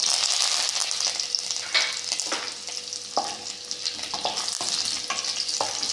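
Green chillies and curry leaves frying in hot oil for a tomato gojju, a loud steady sizzle close to the pan with light stirring clicks, no voices.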